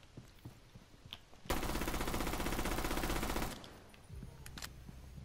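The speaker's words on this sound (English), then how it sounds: "Literally unloading a whole entire magazine" A video game gun empties an entire magazine in one continuous rapid burst lasting about two seconds, loud and close, with quieter game sounds around it.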